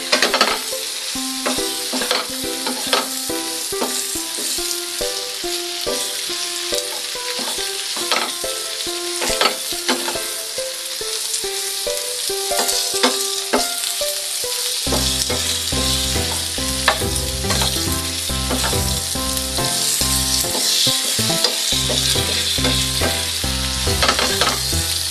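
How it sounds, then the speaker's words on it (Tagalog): Boiled pork fries and is stirred in a pan for pork binagoongan, giving a constant loud sizzle with scraping and clanking from the stirring, busier and heavier in the second half. "I-mix na ng ating pinakuluang pork kanina."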